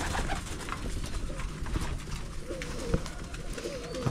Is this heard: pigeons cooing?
yes